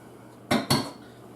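Two quick metallic scrapes of a utensil against a pot, close by, with no talking.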